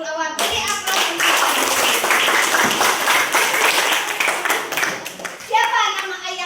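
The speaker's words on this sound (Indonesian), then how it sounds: "Beri aplaus untuk" Classroom of children clapping together for a correct answer, a dense burst of applause that swells and then thins out, with a little talk before and after.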